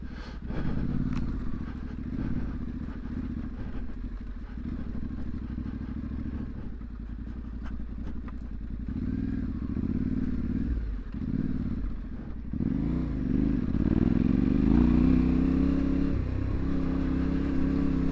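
A Yamaha Tenere World Raid motorcycle rides along rough green lanes, its engine droning steadily with low rumble, occasional clatter and thumps, then revving louder and rising in pitch toward the end, with no speech.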